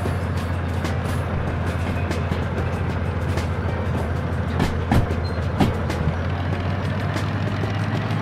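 A train rolls along the tracks in the Derail Valley game, a steady loud rumble with a low engine drone and faint rhythmic clacks throughout, no voices.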